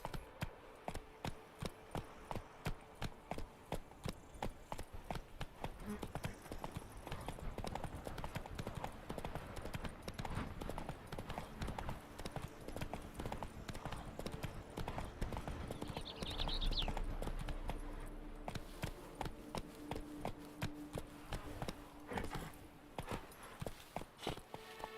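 Horse hooves clip-clop in a steady walking rhythm, close and continuous throughout, with a faint whinny partway through, in a fantasy drama setting from The Witcher.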